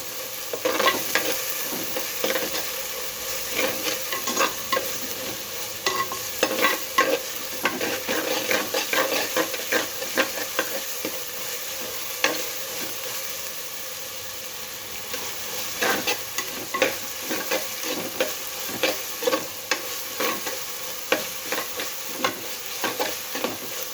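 Spices for a cabbage and moong dal curry fry in a spoonful of oil while a spoon stirs and scrapes them around the pan, a close, continuous sizzle broken by repeated scraping strokes and clicks.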